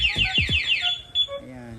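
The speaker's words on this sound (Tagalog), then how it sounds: "doon na po mag-alarm yung remote pati yung motor" A motorcycle anti-theft alarm sounds from both the bike and its remote fob, a rapid warbling siren pulsing loudly, then short beeps and a brief voice.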